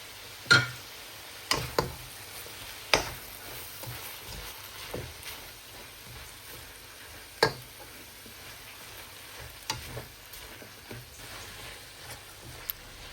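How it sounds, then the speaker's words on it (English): Rice noodles in a pot are given a quick stir, with scattered light clicks and taps of a utensil against the pot over a faint low simmer, quiet and close, no voices. "Give it a quick stir as well."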